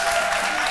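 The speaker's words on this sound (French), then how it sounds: "on applaudit pour deux raisons" A television studio audience on a French midday talk show claps in a short, dense burst of applause, steady and fairly loud throughout.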